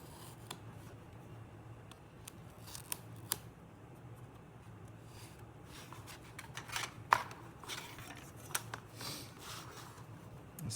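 Scissors cut through paper or craft material in a quiet room, with scattered soft snips and rustles, close but faint, and a few sharper clicks. No one speaks.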